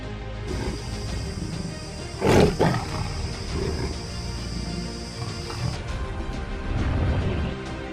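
A tiger roars in a jungle scene of a Hindi fantasy short film, one loud close roar with a brief follow-up growl over a steady droning music bed.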